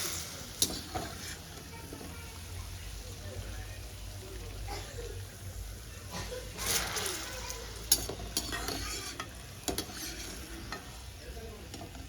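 Besan pakoras fry in hot oil with a low, continuous sizzle, broken by stirring scrapes and light utensil clinks, while someone talks over it.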